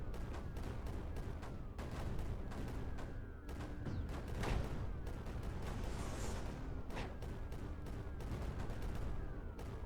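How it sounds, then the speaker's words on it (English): Mortars and cannons fire repeatedly in the strategy game Creeper World 4, a dense stream of sharp booming thuds and cracks in quick irregular succession, with no talking over it. "Alternating mortars and cannons forward on this narrow path"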